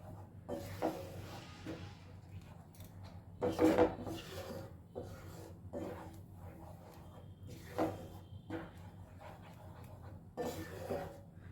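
Spinach being stirred and fried with spices in a pan, giving repeated scraping, rubbing strokes of a spatula at an uneven rhythm, with brief louder bursts at moments and no talking.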